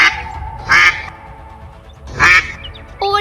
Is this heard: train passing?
no